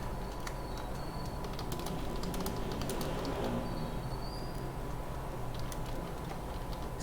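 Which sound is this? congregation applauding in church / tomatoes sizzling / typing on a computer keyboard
typing on a computer keyboard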